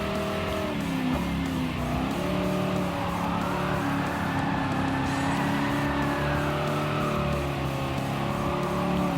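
A Dodge Challenger races in Gran Turismo Sport, its engine droning loudly and steadily with rising and falling pitch as it shifts and takes corners, and a brief tire squeal. It runs continuously without any talking.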